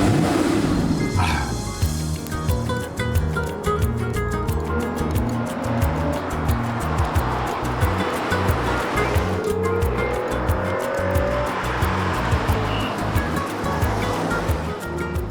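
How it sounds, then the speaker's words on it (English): An Aston Martin DB9 with a 6-litre V12 and 450 horsepower roars steadily past at speed, a loud sustained engine drone with a rising whine and a brief tyre squeal, no voices. "my emotions are stirred quite significantly by its 6-litre V12 with 450 brake horsepower"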